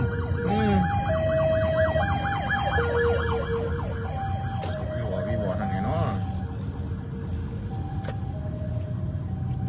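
An emergency vehicle siren wails past on a road in Thailand, its rising and falling tones loud and close over steady traffic rumble, with another siren tone joining partway through.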